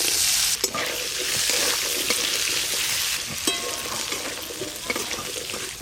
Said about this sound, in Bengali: চাপা দিয়ে দিয়ে প্রথমে আলুগুলো একটু ভালো করে ভেজে নেব